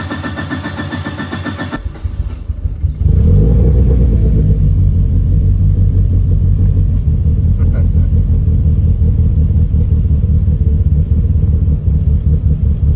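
A Mitsubishi Evo 8 engine cranks and catches, then settles into a steady, loud, close idle with a low rumble that continues to the end; a voice is briefly heard early on.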